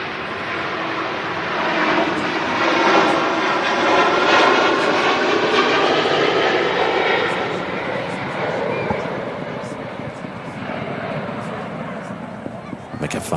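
British Airways Boeing 777, about 21 years old, roaring at Manchester Airport as its engines swell to a loud, broad rumble around the middle of the clip and then slowly ease off, steady and close with no talk.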